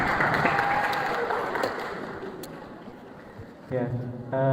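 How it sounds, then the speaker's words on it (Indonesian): At a Qur'an completion ceremony and entrepreneurship seminar, an audience claps loudly and steadily, the applause gradually thinning before a voice starts speaking near the end. "Kalau mau tepuk tangan yang keras."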